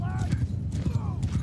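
Horse hooves clip-clop in a rhythmic gallop during a video game battle, layered with ambient clatter, while someone talks over the action.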